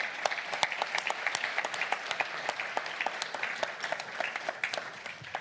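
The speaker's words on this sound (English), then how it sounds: "We'll just give another round of applause for our keynote speeches this morning." A crowd applauding steadily, many hands clapping in a dense, even patter at moderate volume.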